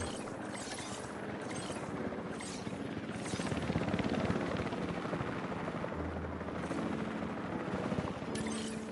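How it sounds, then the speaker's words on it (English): A helicopter in the video game Jurassic World Evolution 3, a steady rotor drone with mechanical whir running continuously and fairly loud, with no talk over it. "Hope the helicopter doesn't crash"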